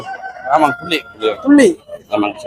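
A rooster crows close by at a livestock market in Kunnathur, Tiruppur, in several harsh, rising bursts, with clucking fowl sounds between them.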